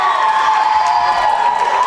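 Crowd at a live wrestling show cheering and shouting continuously, a loud dense roar that holds steady without a break.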